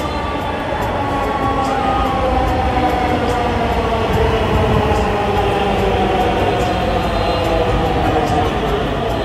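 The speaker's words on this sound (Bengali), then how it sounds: "দর্শক অবশেষে আমাদের ট্রেন চলে আসছে" A passenger train rolls into a Kolkata station heading for Bowbazar, a loud steady rumble of wheels and carriages with faint rhythmic clatter that lasts the whole stretch.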